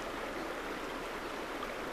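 A river flows with a steady, dense rush of water, even and unbroken throughout, fairly close and without voices.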